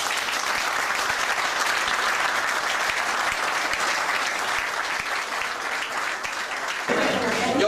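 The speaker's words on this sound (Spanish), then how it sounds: "yo les pido otro aplauso por acá." Audience applause at a golf club event, a dense continuous clapping that stays loud and steady throughout and swells slightly at the end.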